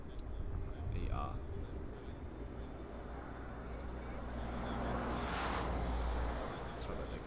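Air France Boeing 777-300ER jet roaring at Paris CDG airport, a broad steady rumble swelling toward the middle, heard from a distance with people talking.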